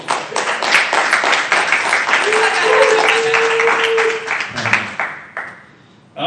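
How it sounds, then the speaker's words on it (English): A conference audience applauds a speaker introduced for a talk on humane architecture, dense clapping that swells then fades out near the end, with a brief whoop and voices mixed in. "give him a round of applause"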